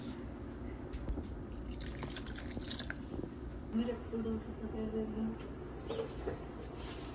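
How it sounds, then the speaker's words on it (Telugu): Water trickles and splashes into a cooker with soft dripping, fairly close, alongside faint background noise and brief murmuring. "వాటర్ యాడ్ చేద్దాం. 1 గ్లాస్."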